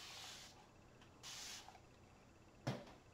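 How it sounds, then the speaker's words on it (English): A spray bottle mists an acrylic paint palette in two soft, hissing bursts close by, each lasting about half a second, followed by a brief knock. The setting is otherwise quiet. "And then I'm going to spray my palette."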